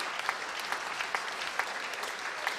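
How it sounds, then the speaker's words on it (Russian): A festival audience applauding a performer, a steady wash of clapping with individual sharper claps standing out at an even rhythm. "Аплодисменты. Аплодисменты Сергею."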